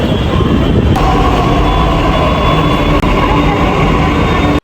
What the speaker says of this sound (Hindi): अब ये हम आ चुके हैं मेट्रो स्टेशन पर।